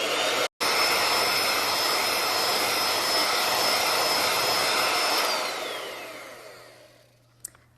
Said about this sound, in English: gradually increase the speed of the mixer and continue beating until the egg whites have increased in volume and thickened